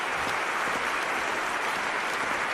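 Applause fills a London 2012 Olympic video game weightlifting event, a dense, even wash of crowd clapping that holds steadily at moderate volume with no voices over it.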